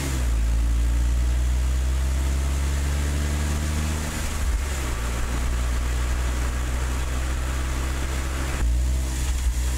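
A Honda S660 driving on a road with the top open, steady engine drone and road noise throughout, with a couple of shifts in engine pitch as it slows and picks up speed.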